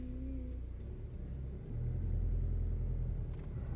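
A car engine hums and rumbles steadily from inside the moving vehicle on a first-time drive, a low continuous drone that swells louder partway through, with no talking.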